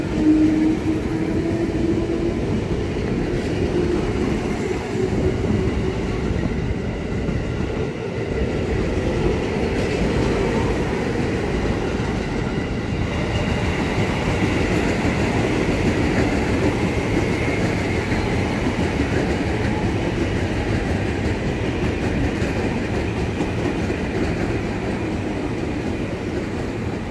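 A KRL Commuter Line electric train runs through Jayakarta Station in Jakarta, a loud continuous rumble of wheels and motors with faint clickety-clack over rail joints and a brief high squeal early on.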